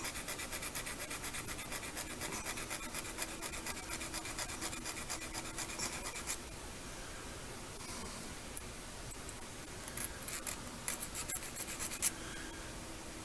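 Small Chinese diamond triangle file grinding a relief into an HO-scale model railroad crossover, a steady close rasping stroke that runs continuously, briefly easing midway before resuming in short scratchy bursts.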